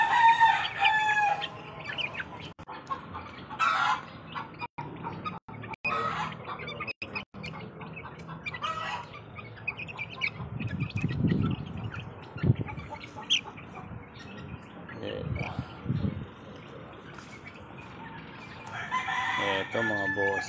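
Devil White cross roosters crow several times with clucking between, close by and fairly loud, interrupted by a few sharp knocks and handling noises.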